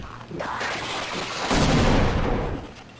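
Explosive barrels blowing up in the Half-Life game, heard as a sustained loud rumbling blast that swells midway and then fades.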